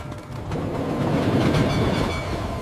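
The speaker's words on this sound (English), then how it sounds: "Train out of control." A runaway hay train in a children's farmyard cartoon rumbles past, a loud continuous rolling rattle of cars on the tracks with faint clacking.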